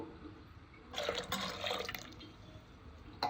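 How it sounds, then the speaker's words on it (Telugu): Water poured into a thick curry masala of black-eyed peas and brinjal, a short splashing pour lasting about two seconds, moderately close and fairly soft, with a brief splash near the end and no talking. "సో ఇంకా కొంచెం వాటర్ వేస్తాను"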